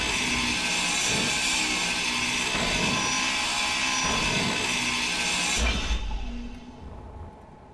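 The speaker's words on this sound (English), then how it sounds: "Get that drill out there." A drill in the Space Engineers video game runs with a loud, steady grinding roar, then cuts off and winds down near the end.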